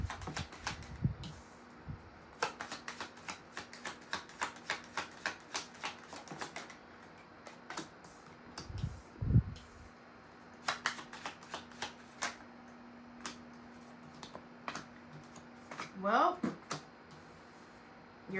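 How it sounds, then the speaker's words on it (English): Kipper deck cards are shuffled and drawn in quick, crisp bursts of slapping clicks during a card reading, with pauses between runs and a few brief, soft bits of voice. "I'm going to pull four cards from the Kipper deck and clarify each one."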